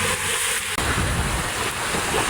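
Sea waves roll in at a river mouth, a steady broadband roar mixed with wind buffeting the microphone, loud and continuous with a brief dropout near the start.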